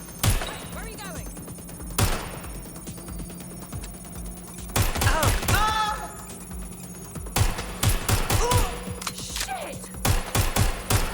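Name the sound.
gunfire in video game Watch Dogs: Legion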